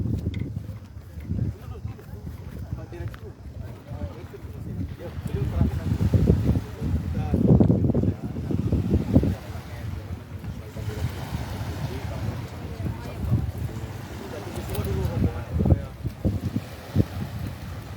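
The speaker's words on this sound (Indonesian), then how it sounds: "Ini rombongan menggunakan speedboat Tribuners." A speedboat carries a group across Lake Matano with a low, steady motor hum, water rushing against the hull and wind buffeting the microphone. Voices talk over the boat noise now and then.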